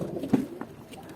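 Domestic pigeons, kept with chicks on a rooftop, give a single soft, low coo close by, brief and quiet against faint background hiss.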